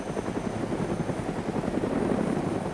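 In the video game DayZ, a helicopter drones steadily overhead with a continuous low rotor chop, filling the whole stretch at a moderate, even level with no talk.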